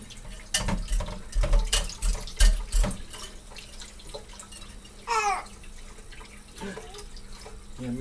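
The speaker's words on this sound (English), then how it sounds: "What are you doing? Cleaning the sink?" Running tap water splashing into a sink as it is cleaned, with bursts of flow and clattering near the start, a brief gurgle midway, and faint background voices.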